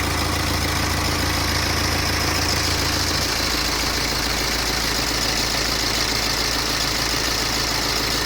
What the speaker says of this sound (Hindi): जब आप गाड़ी को बिल्कुल कोल्ड स्टार्ट कर रहे होगे, स्टार्ट करने के बाद एक ऐसी टाइप की आवाज आ सकती है